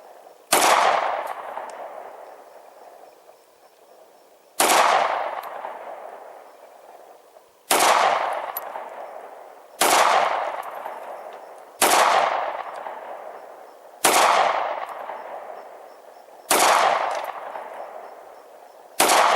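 Smith & Wesson SD40VE pistol fired at range targets outdoors, about eight loud sharp shots spaced a couple of seconds apart, each followed by a long ringing echo.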